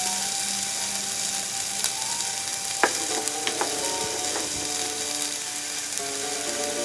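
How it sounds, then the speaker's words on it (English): About a third of a cup of onions sizzle and fry in a pan over medium-low heat, a steady crackling hiss with occasional clicks and scrapes of stirring, close and continuous. "with your pan on a medium-low heat, go ahead and add about 1/3 cup of onions"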